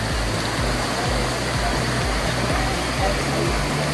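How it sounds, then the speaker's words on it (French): A small river near La Soufrière, Guadeloupe rushes in a constant broadband roar that stays steady and close, with low thumps underneath. "C'est l'eau."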